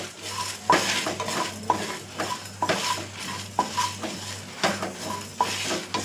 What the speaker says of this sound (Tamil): மல்லியும் மிளகாவும் தான் நல்லா வறுபடணும்.